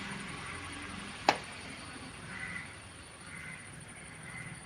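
A crow cawing faintly in the distance over outdoor background hiss, with one sharp nearby knock early on.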